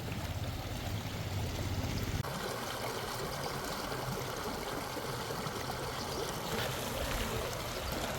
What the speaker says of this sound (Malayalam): ചെറിയ തോട്